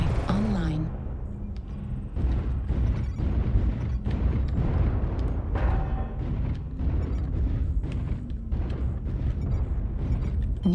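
Airstrike explosions rumble and boom repeatedly in MechWarrior Online, a dense run of heavy blasts and crackling impacts with a voice speaking over the barrage.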